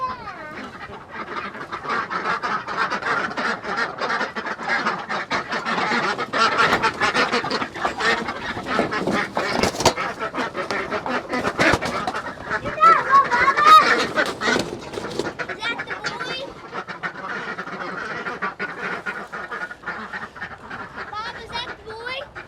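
Domestic ducks in a pen quack and honk loudly and repeatedly at close range, a dense overlapping flock chorus that swells in the middle, with people occasionally talking among the birds.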